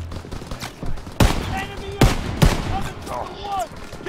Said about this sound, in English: I'm shooting him now.